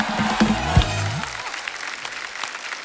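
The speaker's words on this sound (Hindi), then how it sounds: "जोरदार तालियां हो जाए हमारे मेहमानों के लिए।" Studio audience applause at a TV comedy talk show, starting with a few spoken words and a musical sting over the clapping, then settling into steady, moderately loud clapping for the rest.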